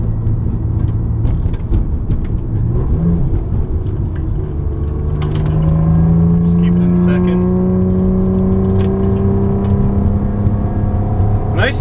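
A Saab's engine drones near 4,500 RPM while climbing a mountain road, a loud steady rumble with rising whine as it pulls through tight corners.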